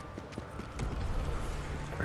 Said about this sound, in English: Hear little footsteps.